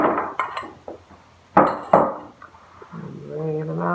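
Cinnamon-coated sweet potato slices are set down on a baking pan in a home kitchen, giving a few separate clinks and knocks of metal and glass with quiet gaps between them, followed by soft background music.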